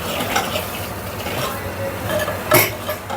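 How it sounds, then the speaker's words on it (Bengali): Spices, a homemade masala blend and turmeric powder stirred in a pot while making mutton bhuna, heard as a brief close scraping and shuffling with a low background hiss and one sharper clink near the end. "এখন আর একটু নাড়াচাড়া করে নিই।"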